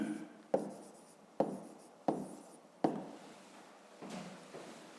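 A pen scratches out handwritten numbers on paper: five or six short, sharp strokes close up, each fading quickly, in a quiet room without speech.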